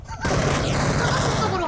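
Cover fire in the video game PUBG: after a brief quiet start, a loud, dense burst of gunshots erupts and continues as sustained rapid fire, booming and close, for the rest of the clip.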